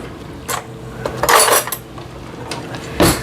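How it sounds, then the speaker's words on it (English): A casserole dish and a knife are picked up in the kitchen, giving a few close clinks and clatters of ceramic and metal with short gaps between them. "I'm going to grab a casserole dish and a knife"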